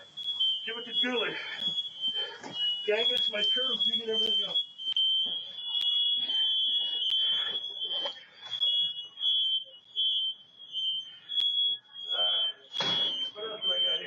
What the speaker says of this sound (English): You can hear the smoke detectors in the house going off in the background